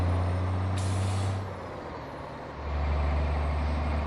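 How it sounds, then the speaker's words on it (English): In a truck driving simulator, a Scania truck's air brakes release a sharp hiss over a heavy, loud engine drone that dips briefly before rumbling back up; no one speaks. "This truck sounds good"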